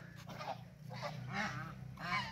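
Ducks calling in a short series of honking quacks, about four bursts in quick succession, close and moderately loud over a low background hum.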